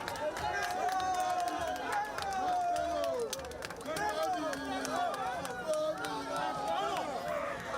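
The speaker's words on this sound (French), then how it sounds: "La foule continue d'acclamer, longtemps après son passage." A crowd cheers and calls out along the route after a presidential motorcade passes in Benin, a dense, steady roar of voices, shouts and scattered clapping that continues without a break.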